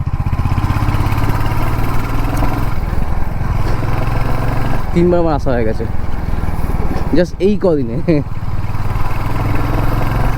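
A motorcycle rides along the NH34 highway between Krishnanagar and Kolkata, its engine drone and wind rush steady and close while someone talks over it.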